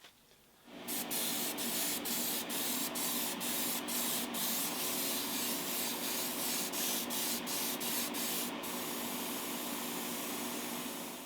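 Gold spray paint hisses from an aerosol can onto a glove in one long continuous blast, close and steady for about ten seconds after a brief quiet start.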